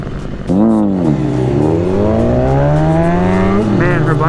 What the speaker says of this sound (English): Man, her bike sounds so good.